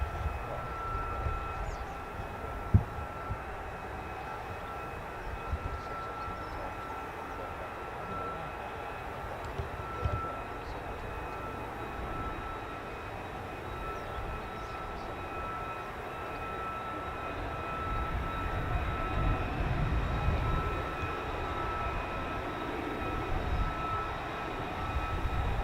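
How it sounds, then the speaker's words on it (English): An F-35A fighter jet of the 493rd squadron passes at an airshow, a steady, distant engine roar that holds for the whole span and swells slightly toward the end, with no talk over it. "There she comes, F-35A of the 493rd Grim Reapers."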